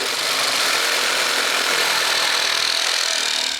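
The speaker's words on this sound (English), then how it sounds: "I cut it in half with a reciprocating saw and an 8-inch multi-purpose blade" A reciprocating saw with an 8-inch multi-purpose blade cuts through a 4-inch PVC drain pipe, producing a loud, continuous buzzing rasp that stays constant throughout.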